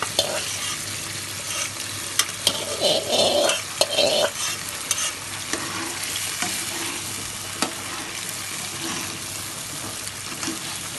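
Prawns fry in a karahi with a steady, close sizzle, broken by stirring scrapes and a few sharp clinks, with no talking.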